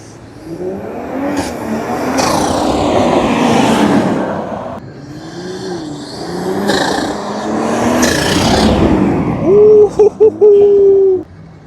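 A BMW X3 M40i fitted with front-mount intakes revs hard and accelerates in several loud, close surges, each rising and falling, ending with sharp bursts of throttle.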